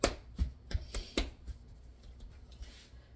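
Knife cutting pecan pie tartlet dough on a board, a run of sharp close taps and chops that are loud at first, then softer, scattered handling noises.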